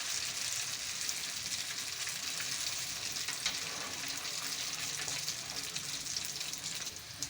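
Potato samosa rolls fry in hot oil, giving a steady, even sizzle that continues without talk.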